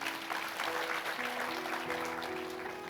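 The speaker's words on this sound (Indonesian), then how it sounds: "Yang setuju berikan tepuk tangan." Audience applause in a church gathering, a fairly faint, continuous patter of clapping with some steady tonal background underneath, lasting only a few seconds.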